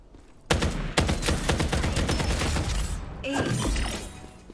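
Rapid bursts of gunfire from a Jupiter gun in the video game Farlight 84, loud and close, with repeated sharp cracks running for several seconds before a shift to a different mix of effects near the end.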